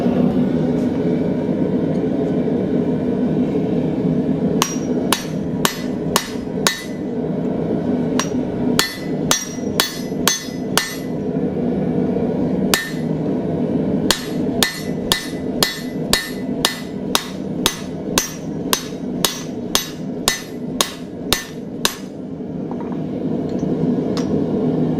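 Hammer blows on a railroad spike being drawn out into a nail header, loud ringing strikes in fast repeated bursts over steady forge roar, with a few isolated hits between runs.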